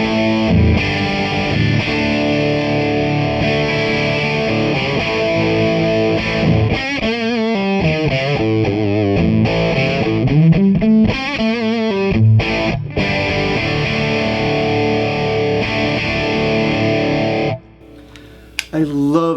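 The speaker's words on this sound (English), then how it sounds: "Plexi style amp sounds like this." Distorted electric guitar played through a cranked Shaw Plexi-style amplifier at maximum gain, giving dense, thick chords and sliding bends that sustain loudly and continuously before cutting off near the end; close, with no talking.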